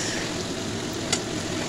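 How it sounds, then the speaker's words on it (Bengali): Shrimp fry in a pan during home cooking, giving a steady, close sizzle with a brief sharper crackle partway through and no talking. "দেখো যে এবার চিংড়ি মাছগুলো ভাজব"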